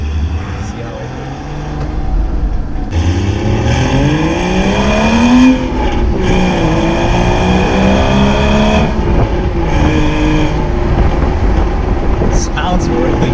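Porsche Boxster 2.7-liter flat-six with a manual gearbox, heard from inside the cabin as it accelerates through the gears, with rising and falling engine harmonics and steady rumble across the whole stretch, loud and close.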